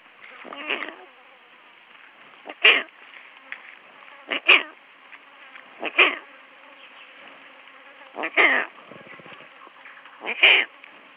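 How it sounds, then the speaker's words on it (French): Newborn lion cubs recorded in the African savanna give five or six short, high mewling calls, spaced a couple of seconds apart over a faint background hum, close and fairly clear. "Ce sont les premiers sons de petits lionceaux"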